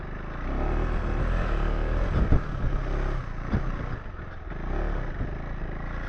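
KTM 390 Enduro R dual-sport motorcycle ridden off-road, its single-cylinder engine revving and rising under a steady wind-buffeted rumble, with clattering bumps and short throttle bursts.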